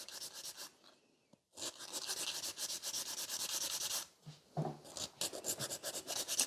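Stiletto fiber gel nail being shaped with a file, close and fairly quiet: quick rhythmic rasping strokes in bursts, with brief pauses between passes and a few soft handling knocks.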